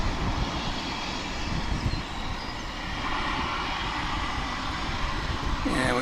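A jet airliner lands at Dallas/Fort Worth International Airport, its engine roar a broad, steady rumble that holds loud throughout, with a faint voice briefly under it near the end.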